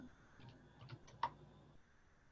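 A few faint, scattered keystrokes on a computer keyboard click quietly during an online meeting, spaced irregularly against a low background hum.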